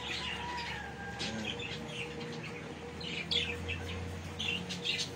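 Many parakeets chirp and tweet in a busy outdoor aviary, a dense, fairly close chorus of short calls with occasional wing flutters and a low background hum.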